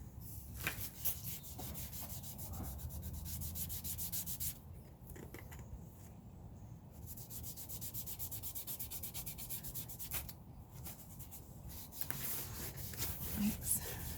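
A baby wipe dipped in blue paint is rubbed back and forth over a wooden sign, a faint, continuous scratchy scrubbing with brief pauses, close by and quiet.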